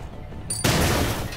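In the game SteamWorld Heist, a thrown grenade goes off with a sudden loud blast after a short high whistle, and the roar rumbles on for nearly a second before easing, with no voices over it.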